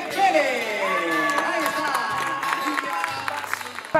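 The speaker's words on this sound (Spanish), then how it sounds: "Fuerte aplauso a Lidia Cepere" A crowd at a race finish applauds and cheers for the first woman finisher, scattered claps under loud voices and an announcer, with a bright whistle-like tone sliding through the noise.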